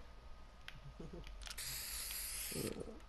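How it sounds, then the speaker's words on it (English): In the Fortnite video game, a spray-paint can hisses in a short burst lasting about a second over faint background noise, followed by a low rumble and a voice at the end. "You just spray painted the air."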